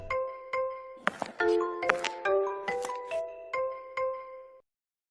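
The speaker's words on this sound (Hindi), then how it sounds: "जब सरिता रसोई में काम कर रही थी, तभी उसका फोन बजा।" A phone ringtone plays a bright, chiming melody of repeated tones for several seconds, clear and close, then stops abruptly.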